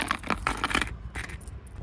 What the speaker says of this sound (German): Ich habe hier so ganz viel Kleingeld.